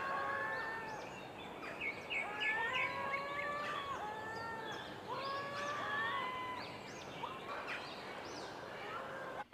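Goose calls from the dinosaur park game Jurassic World Evolution 2, a series of repeated honking, slightly nasal cries overlapping one another at moderate volume over a soft background.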